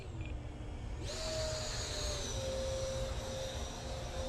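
Small 3D-printed 64mm electric ducted fan Mirage 2000 model jet in flight, a steady high-pitched whine that rises in pitch partway through and holds, continuous and fairly close with no talking.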